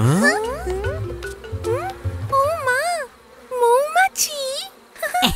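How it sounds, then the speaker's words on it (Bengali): Cartoon bees buzz in a Bengali animated folk tale as rain approaches, giving wavering, warbling electronic tones that rise and fall in repeated swoops, fairly loud and close, with short pauses between phrases. "মৌমাছি।"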